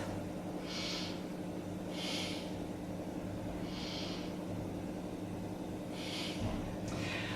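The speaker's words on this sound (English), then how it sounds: "Now let's take 3 breaths." Deep belly breathing during a yoga stretch: five soft, airy breath bursts spaced a second or two apart, close but quiet, over a steady low room hum.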